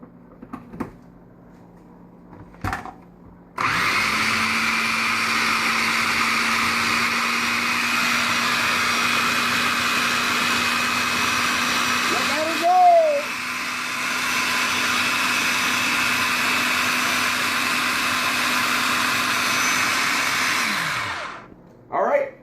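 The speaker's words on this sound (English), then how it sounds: "We're going to blend this down a little bit so we have space to put more in there." Kitchen blender chopping salsa ingredients, a steady loud motor whir running about eighteen seconds with a brief dip in the middle, preceded by a few soft clicks and handling noises.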